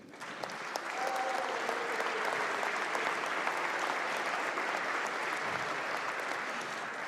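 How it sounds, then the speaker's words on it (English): Sustained applause rolls through the chamber of the West Virginia House of Delegates, a broad, even wash of many hands clapping at moderate distance that holds steady for several seconds. "a little clap for her dad, too"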